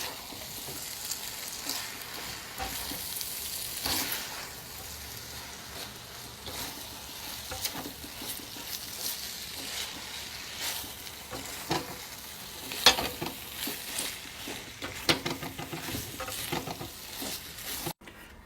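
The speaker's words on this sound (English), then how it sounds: "make sure that you rotate and stir your pasta enough to get it saturated with the sauce and the seasoning" Haitian spaghetti being stirred and turned through sauce and seasoning in a pan, with a steady low sizzle and soft scraping of the pasta, with no talking.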